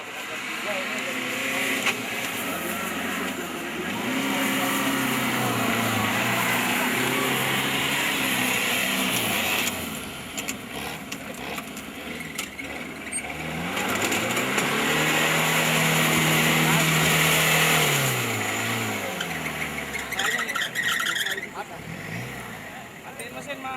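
An off-road vehicle engine runs steadily at the 2009 Muba Offroad Challenge in Musi Banyuasin, South Sumatra, its pitch rising and falling as the revs change, with people talking over it throughout.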